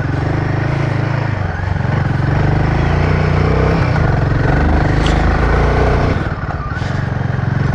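A Royal Enfield Himalayan 450 motorcycle climbs a muddy uphill track in first gear on stock tyres, its engine droning loud and close throughout with steady low rumble and brief revs.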